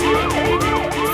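An ambulance siren wailing in a traffic jam, loud and close, its pitch sweeping up and down in a continuous cycle with a low engine rumble beneath.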